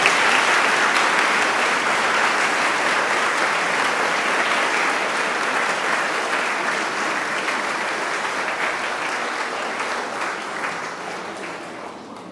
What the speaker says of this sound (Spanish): Un aplauso para Fabián Elías